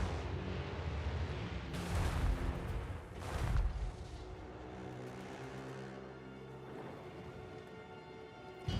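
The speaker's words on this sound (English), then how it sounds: "These warp stone cannons of pure chaos energy." Warp stone cannons firing at a tower in the Warhammer Total War 3 strategy game: several heavy booming blasts with rumbling tails, rolling over continuous battle noise and a droning backdrop.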